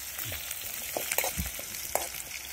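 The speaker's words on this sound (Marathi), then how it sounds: "खोबरं आणि मिरची चांगली तळून घेतली ना" Grated coconut and green chilies fry in an oil-filled pan for spiced rice, giving a steady close sizzle with soft stirring scrapes and a few low thumps, with no voices.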